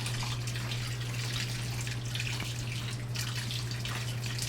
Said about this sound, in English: a really good way to drain off the whey quickly is just to go back and forth like this